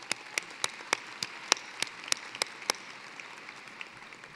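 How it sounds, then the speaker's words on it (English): A commencement ceremony audience claps sparsely and faintly, with a dozen distinct, evenly spaced sharp claps standing out over a soft background wash of scattered applause. "Let's give them a round of applause as well."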